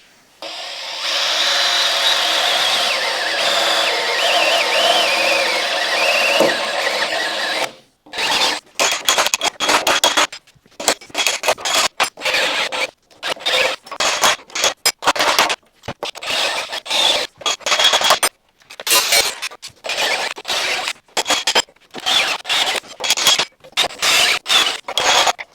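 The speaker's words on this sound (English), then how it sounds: "So let the drilling begin." A power drill bores out spot welds in a rusty car body panel, loud whining, squealing bursts of drilling broken by short pauses, repeated many times after an opening stretch of continuous grinding.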